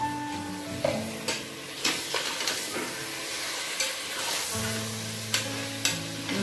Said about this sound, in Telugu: సో ఇప్పుడు కలిపెట్టిన చికెన్ దీంట్లో వేసేద్దాము. అడుగున్న కర్డ్తో సహా వేసేసుకున్నా.